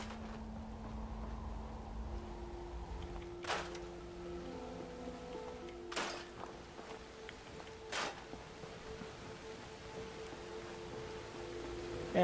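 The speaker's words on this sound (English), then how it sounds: "Man, it is pouring." Heavy rain pours down at a drive-in in the video game Fallout 4, a steady faint hiss with low hums and a few scattered clicks and taps.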